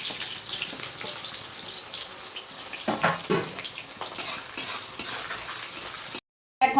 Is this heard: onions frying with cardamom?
yes